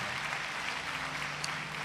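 Church congregation applauding during a worship service, a steady dense wash of clapping filling the short moment without speech.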